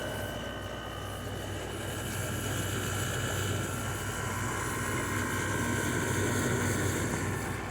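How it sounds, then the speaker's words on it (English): An LG air conditioner compressor running indoors, a steady low droning hum with a faint whirring tone on top, constant and fairly quiet throughout with no voices. "You can hear the compressor."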